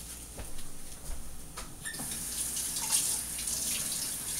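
Baby bok choy is rinsed under a running kitchen tap, giving a steady close splash of water with a few handling knocks and no talking.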